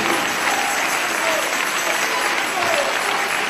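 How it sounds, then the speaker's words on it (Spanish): A church congregation applauds in praise of Jesus, producing a continuous dense wash of clapping at moderate loudness with no clear breaks. "Dale ese aplauso a Jesús."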